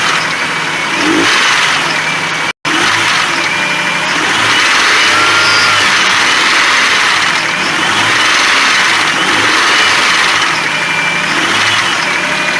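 Nissan VG33E V6 engine running steadily, close and loud for the whole stretch, with a continuous mechanical clatter consistent with a valvetrain rattle from lifter or rocker arm clearance; no talking.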